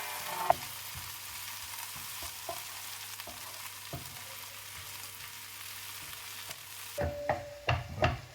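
Bolognese sauce with garlic sizzling in a frying pan, with steady frying hiss and a few soft scrapes and clicks of a spoon stirring, growing brisker near the end.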